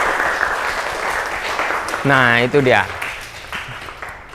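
Classroom applause rustles underneath as a teacher's voice speaks briefly over it, the clapping fairly soft and fading toward the end.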